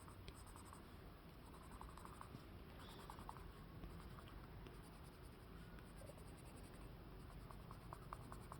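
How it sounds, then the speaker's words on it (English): Coloured pencil strokes on Bristol paper give a faint, steady scratching close by, continuing alone without pause. "Now I'm using coloured pencil to finish off."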